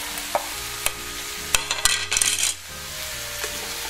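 Beef and tomatoes being stirred in a frying pan for carne con papas, with a spoon scraping and clinking against the pan in several sharp bursts over a steady low sizzle.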